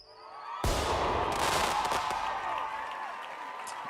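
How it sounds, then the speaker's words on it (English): Fireworks sound effect played for a birthday celebration: a sudden loud burst followed by a dense crackling, popping spray that stays strong and slowly thins out. "Let's give some fireworks for the birthday."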